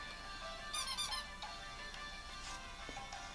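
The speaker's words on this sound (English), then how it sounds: "Your phone is squeaking." A phone giving off high, thin squeaks in a short burst of repeated chirps followed by a few fainter isolated squeaks, quiet and close, with no voices.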